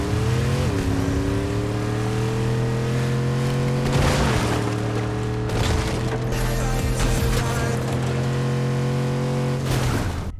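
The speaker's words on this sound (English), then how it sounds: "The V8 engine sound?" A V8 car engine in the video game Fortnite drones at a steady, loud pitch, stepping up through gear shifts with brief revving surges, rich in harmonics, alone without voices.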